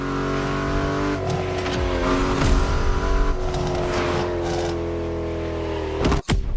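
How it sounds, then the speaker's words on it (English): A powerful Mercedes in the racing game The Crew Motorfest revs and accelerates with a loud, sustained engine roar, rising and falling through gear changes, ending in a sudden brief drop and sharp burst. "you'll get to drive yet another extremely powerful car"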